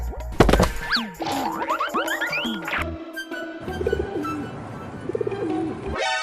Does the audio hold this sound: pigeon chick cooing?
yes